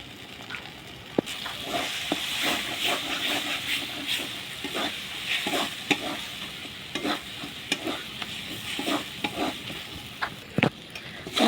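White sesame seeds fry in mustard oil, a soft continuous sizzle punctuated by frequent scraping and clacking strokes as the mixture is stirred around the pan, with no speech.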